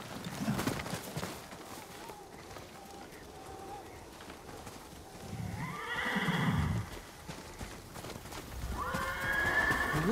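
Horses whinny loudly a couple of times over an outdoor ambience in the video game Ghost of Tsushima, with hoof sounds and faint birdsong in the background.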